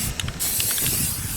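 Rust-Oleum spray paint hisses close and loud onto a 20mm ammo can, a sustained airy spray with faint clicks from the nozzle near the start.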